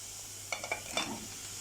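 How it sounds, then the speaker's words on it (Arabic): Pieces of meat stirred and sautéed with onion in a hot pan, a steady low sizzle running throughout while a short cluster of quick utensil scrapes and clicks rises near the middle, close and fairly quiet, with no voices. "وافضل بقى اقلب كده فيهم واشوحهم كويس مع بعض لغايه ما معايا لون اللحمه يغير شويه ولون البصله"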